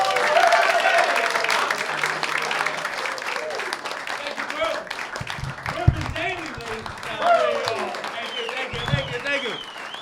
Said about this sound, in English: Look, loads and loads of applause, loads of laughing.